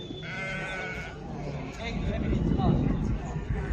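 Sheep and goats bleating at a livestock market in Maştağa, Azerbaijan, a loud nearby bleat at first followed by more calls amid crowd noise and people talking throughout.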